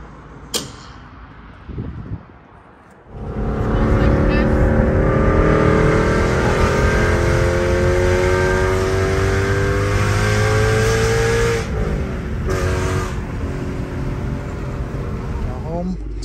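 A modified Ford Mustang GT engine runs at steady speed with a deep, loud rumble and rising harmonic whine, after a brief quiet start with a few clunks.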